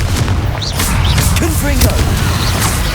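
Confringo blasting-spell explosions in the wizarding game Hogwarts Legacy produce several punchy booms and crackling bursts over busy combat noise, with brief voice sounds mixed in.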